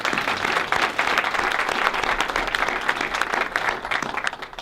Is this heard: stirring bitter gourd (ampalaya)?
no